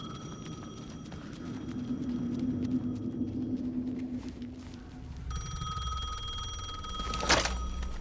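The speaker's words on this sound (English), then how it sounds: "The phone again." A telephone rings in the video game Alan Wake 2, a repeated electronic trill that stands out from a low, droning ambient background with a brief sharp burst near the end.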